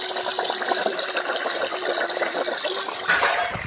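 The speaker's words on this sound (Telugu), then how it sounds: "మనం అయితే మోటార్ వేసినాం కదా, నీళ్ళు అయితే వస్తున్నాయి" Irrigation water pours from a motor pump's outlet in a garden chilli plot, a loud continuous close gushing splash with slight surges near the end. No one speaks.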